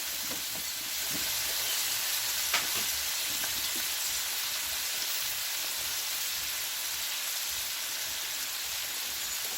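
Peeled tomatoes go into a pan of frying peppers and onion for paella, and a steady, dense sizzle fills the pan with a brief stirring knock.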